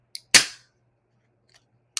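A drink is popped open with one sharp, loud crack that fades over a fraction of a second. Faint clicks come before it and after it, in an otherwise quiet room.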